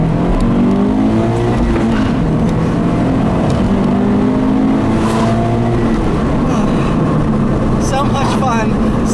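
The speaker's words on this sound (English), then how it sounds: "I'll leave you guys with a nice little acceleration here. Not going to be as exciting with the stock exhaust" A Subaru BRZ on its stock exhaust accelerates hard, the engine note climbing through the gears with a brief tire chirp, loud and close, while a voice talks over part of it.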